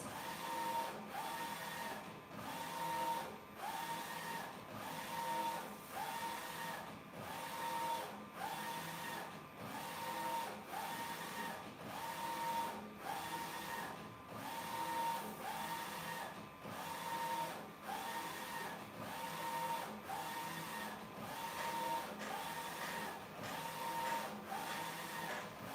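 A FoilTex HTW-300SF print-and-cut machine printing pearly stickers, a steady mechanical whir with evenly spaced, repeating carriage passes, each marked by a faint tonal beep, moderately quiet and continuous.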